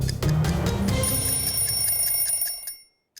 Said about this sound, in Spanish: Sonó la alarmita, es hora de lavarse las manos.